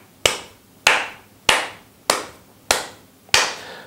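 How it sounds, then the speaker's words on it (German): Hands clap a steady, evenly spaced beat, six sharp claps about 0.6 seconds apart, close and crisp with nothing else heard. "wenn ihr klatscht und ich dann mal aufhöre mit dem Zählen, dass das Klatschen wirklich ganz konstant ist"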